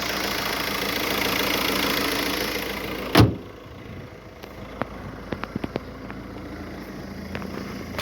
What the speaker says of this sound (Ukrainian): Гарно працює мотор.